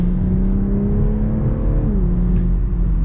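A 2022 Toyota GR Supra 3.0 Premium in automatic accelerates from inside the cabin, its engine note a loud, smooth drone that rises steadily, dips briefly at a gear change, then continues.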